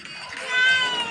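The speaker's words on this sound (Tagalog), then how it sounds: "Nag-iisang pusa lang namin dito mga kamoks." A pet female cat gives one drawn-out, fairly loud meow close by, rising and swelling in the middle before trailing off.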